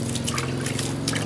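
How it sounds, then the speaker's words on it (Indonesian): Liquid probiotic trickles and splashes onto fermenting banana-stem feed in short uneven pulses over a low background hum, close by. "kita siram seperti ini"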